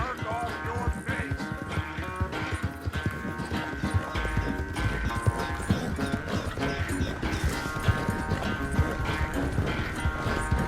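Horse hooves clip-clopping at a gallop in the Red Dead Redemption 2 video game, a steady rhythmic drumming under a dense bed of game music that runs the whole way through.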